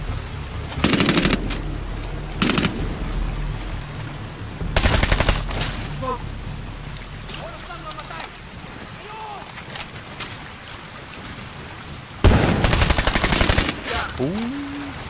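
Bursts of support-gun machine gun fire in a Medal of Honor mission, several loud rapid rattling volleys separated by quieter gaps with talk and scattered battle noise between them.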